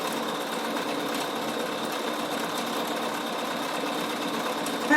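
A Bernina embroidery machine stitches a mylar appliqué with a steady, close, continuous whirring hum that holds level the whole way through, with no talking.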